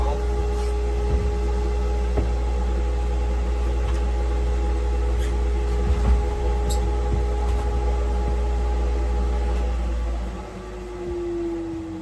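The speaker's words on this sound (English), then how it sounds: "Shut this noisy dust collector off." A noisy dust collector in a small woodworking shop roars with a loud, steady low hum and whine, then winds down near the end as it is switched off.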